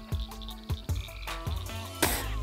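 Small frog in Kentucky croaking in a series of short, loud, close croaks with gaps between, over steady outdoor background.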